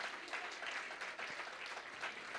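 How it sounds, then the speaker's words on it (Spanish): Church congregation clapping together during a Spanish-language worship service, a steady dense patter of many hands at moderate distance, fairly quiet and continuous with no voices over it. "Denle una ofrenda de palmas a Él que vive y permanece para siempre"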